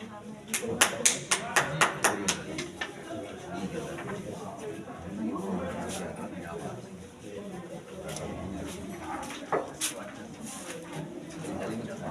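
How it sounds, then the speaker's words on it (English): An audience at a school results ceremony gives a short burst of scattered hand claps, then a voice talks over a soft room background while pigeons coo and a few more claps sound later. "Give them a big round of applause."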